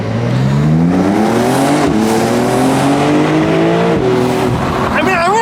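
A 2020 Porsche 911 Carrera 4 Cabriolet (992) accelerating hard and loud, its engine note climbing steadily through the revs, dropping at each gear change and rising again, with continuous road and wind noise throughout.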